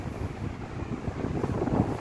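Toshiba electric fan (F-ASA50ID or F-ASA60ID) running at speed 2, a steady close whooshing airflow with a slightly fluttering, buffeting texture and no speech.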